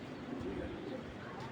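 Medium-sized pigeons coo low and steadily inside a loft where some birds are sitting on eggs, a soft continuous murmur that lasts throughout.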